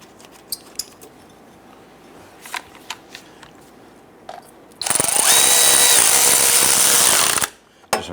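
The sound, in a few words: power tool tightening exhaust bracket bolts on a Jeep Grand Cherokee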